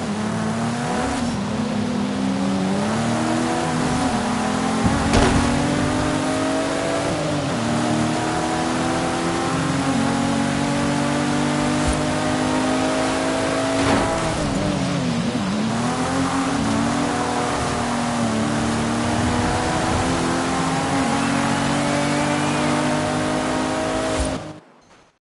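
A car with sequential turbos in Forza Horizon 5, engine revving and pulling through gears, a continuous loud drone rising and falling with several shift dips over a long stretch before cutting off.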